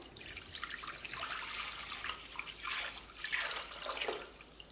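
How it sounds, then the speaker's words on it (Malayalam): Water pours in a steady splashing stream into a pan, fairly quiet and close, with gurgling surges as it fills. "വെള്ളം തിളപ്പിക്കാൻ വേണ്ടിയിട്ട് നമുക്കൊരു പാനിലേക്ക് ഒഴിക്കാം."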